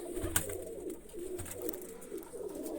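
Pigeons kept by a hobbyist coo in soft, repeated low phrases close by, with a brief sharp tap near the start and faint background noise throughout.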